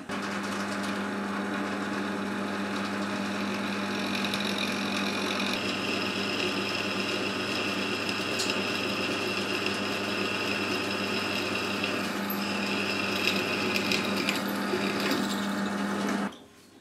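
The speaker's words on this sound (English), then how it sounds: "I'm going to start off by drilling the 4mm hole using the 4mm drill bit." A drill turning a 4mm bit through metal gives a steady, close motor whine with a constant hum that runs unbroken for about sixteen seconds, then cuts off abruptly.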